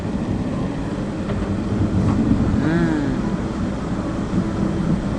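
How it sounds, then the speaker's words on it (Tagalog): Floodwater runs through a village street in Suello Village, Bakakeng Central, Baguio City, a steady broadband rushing roar that fills the whole clip, with faint voices and a brief tonal sweep in the middle. "Baha na po."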